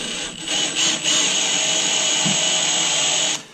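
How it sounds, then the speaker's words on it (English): A power drill whirs steadily at close range, drilling through plastic for a few seconds, with a couple of brief dips in speed near the start before it cuts off. "Let's drill this."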